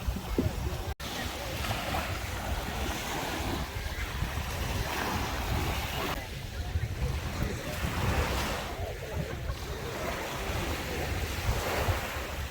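Surf washes steadily onto the white-sand beach at Aramera resort in Ksamil, Albania, with waves rolling in continuously under heavy wind buffeting on the microphone.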